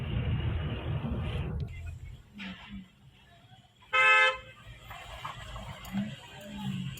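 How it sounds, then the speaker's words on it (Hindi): Vehicles sit jammed on a bridge while a low engine rumble runs underneath. A single sharp car horn honks partway through. Ticking and road noise continue throughout, and someone talks over it. "बहुत लंबा जाम लगा हुआ है। आप देख रहे हैं पूरा पुल जो है गाड़ियों से खचाखच भरा हुआ है"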